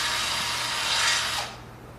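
A drill enlarging a hole in a motorcycle wheel rim to 7/16 inch or 11 mm, a close, steady high grinding whir lasting over a second before it cuts off.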